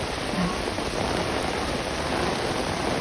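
Heavy morning rain pours down in Gazipur as a dense, steady, loud hiss of drops hitting the ground and surfaces, continuous and without any talk.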